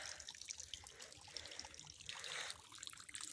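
Water trickles and splashes down rock into a pool on Alavai hill in Namakkal, a steady, close wash of bright spattering with no voices.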